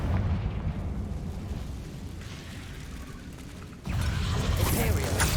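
Confringo blasting spell in Hogwarts Legacy, a rumbling burst of noise that swells abruptly into a louder crackling blast partway through, with mechanical game ambience underneath.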